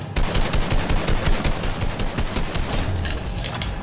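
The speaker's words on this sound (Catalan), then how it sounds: "Epa, sento disparos" Rapid bursts of gunfire in a video game, dense automatic shots crackling loud and near in quick succession throughout, with no talking.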